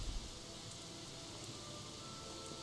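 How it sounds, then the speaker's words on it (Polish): Steady rain pours down in the game Gothic 3, a soft even hiss of falling drops heard alone with no other sound standing out. "Jeszcze się przytrafiło, że pada deszcz."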